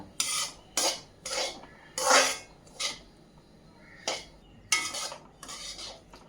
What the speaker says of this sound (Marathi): तुपात रवा घातल्यानंतर तो हलवत राहायचा आहे आणि गॅसची फ्लेम लो ठेवायची आहे.